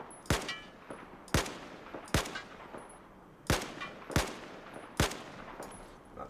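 Six sharp single shots fired at targets on a Battlefield 4 test range, spaced roughly evenly about a second apart, each with a crisp crack and a short echoing tail.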